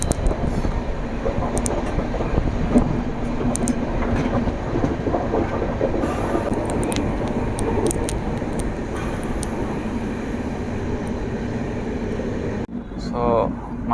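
The 12739 Garib Rath Express from Visakhapatnam runs toward Secunderabad Junction, heard from inside the coach as a continuous rumble with rhythmic clickety-clack of wheels on rail joints, while a person talks over the noise.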